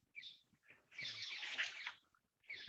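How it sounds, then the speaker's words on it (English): Birds chirp outdoors in a natural setting in Pune in the morning, with short bright calls at first, then a dense burst of overlapping twittering and a brief return near the end, fairly faint. "Do you have some birds around you?"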